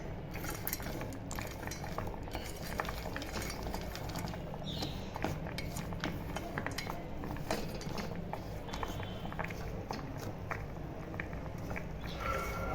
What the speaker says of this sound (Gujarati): તો હવે હું આમાં બી પણ સાથે એડ કરી દઉં છું અને હલાવીશ